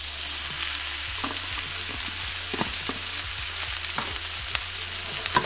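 Onions and bell peppers fry in olive oil in a pan, giving a constant close sizzling hiss with repeated light clicks and scrapes from stirring and shaking the pan, no voices.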